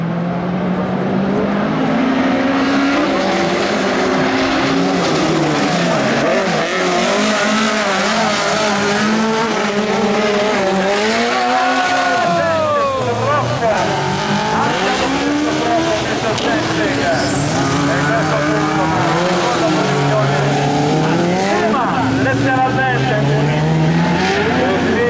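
Autocross race cars rev loudly through corners at a Swiss event, engines rising and falling steadily with tire squeal and skidding throughout, while a commentator talks over the racing.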